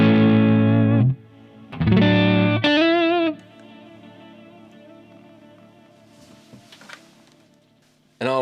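Electric guitar through a Strymon Blue Sky reverb and Strymon Timeline delay pedal: loud distorted chords cut off twice, then a wavering bent note decays into a long shimmering reverb tail before a final chord.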